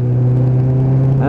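A Suzuki Bandit 600 motorcycle with a six-speed gearbox and a carburettor fault, heard up close on the road as a loud, steady engine drone that climbs in pitch as it accelerates at the very end.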